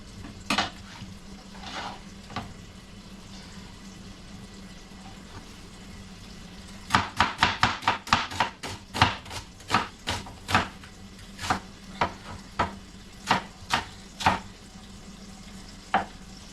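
Onions are chopped on a board with a knife, starting with a few scattered cuts and then settling into a quick run of about a dozen crisp chops with short pauses, while a pot simmers quietly in the background.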